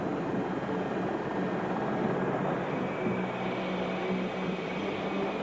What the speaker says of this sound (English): he was loaded onto the Medivac helicopter and rushed to nearby Forest General Hospital